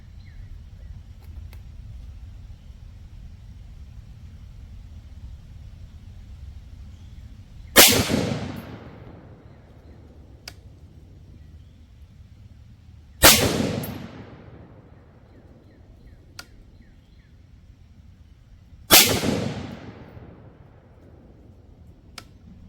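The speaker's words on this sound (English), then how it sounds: "Okay, 5 rounds of the 55 grain poly tip Fiocchi. Let's try 5 of these" Three loud 5.56 rifle shots with 55 grain poly-tip Fiocchi rounds through a Bear Creek cold hammer forged barrel crack out several seconds apart, each sharp report trailing off in a short echo over quiet outdoor background.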